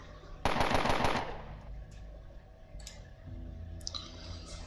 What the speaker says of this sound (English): And then we'll burst fire you.